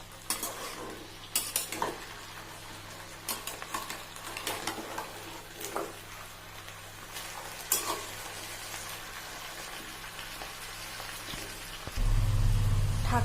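A vegetable curry is stirred in a hot pan with a utensil, sharp scrapes and clinks landing irregularly over a low sizzle, followed at the end by a louder low rumble.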